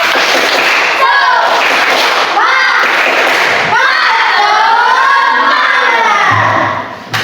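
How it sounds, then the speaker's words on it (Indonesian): Schoolchildren in a classroom perform a loud spirit clap, shouting a chant in unison with rhythmic claps and thumps, their voices close and filling the room almost throughout. "Tepuk semangatnya mana? Tepuk semangat."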